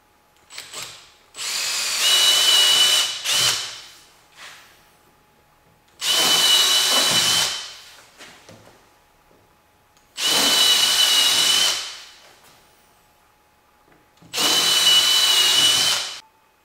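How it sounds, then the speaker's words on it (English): A power drill bores holes into plywood for a shop clamp rack, heard as four loud, close bursts of whining drilling a few seconds each, separated by quiet gaps, with no speech. "I'm going to drill some holes in this randomly, roughly about every 6 inches"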